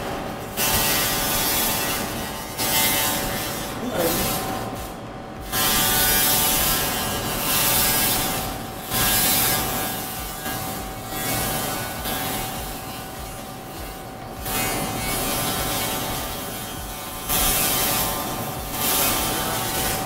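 A steady, loud hissing buzz runs nearly nonstop, with brief dips every few seconds, as a laser burns rust off a metal surface up close.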